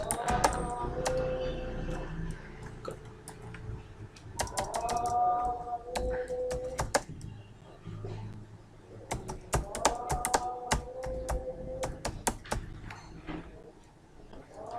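Fingers typing on a computer keyboard during an HTML beginners lesson, steady bursts of close key clicks with brief pauses, over faint background music.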